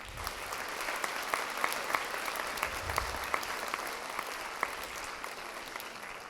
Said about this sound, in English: Let's give our judges a round of applause.